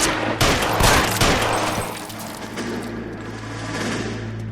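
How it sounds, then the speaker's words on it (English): Gunfire from the video game L.A. Noire: a dense burst of overlapping shots up front, trailing into a lingering rumble of echoing fire and background noise, loud and with no talking. "Do some precise shooting here."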